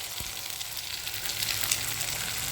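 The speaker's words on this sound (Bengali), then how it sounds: "দুটো ডিম দিয়ে এইভাবে নাড়িয়ে চাড়িয়ে কিন্তু খুব ভালোভাবে চলো ভেজে নিই" Two eggs fry with onion and tomato in a pan, stirred as they cook, giving a low, even hiss of sizzling oil with a light knock at the start and no voices.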